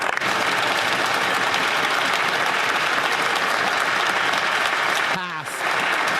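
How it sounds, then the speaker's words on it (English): Sustained loud applause fills a parliament chamber as members stand to clap, a dense continuous roar of hands that drops off briefly near the end. "Not even half of the Liberals stand up and clap"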